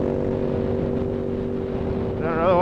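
A Ducati Monster S2R with its two-valve engine and aftermarket exhaust runs at a steady, throaty idle, a continuous low rasping drone close by that swells slightly at the end, with no talk.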